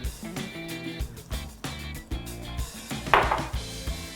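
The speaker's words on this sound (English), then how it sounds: "Give that a good mix." Biscuit crumbs mixed with melted butter in a bowl: repeated soft scraping and knocking strokes of a utensil against the bowl in an irregular rhythm, close and moderately quiet.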